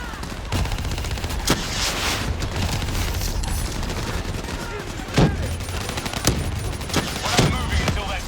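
Turret machine-gun fire in Call of Duty: Black Ops 3, heavy and sustained, with sharp cracks and booms punching through a dense battle din and a voice faintly audible beneath.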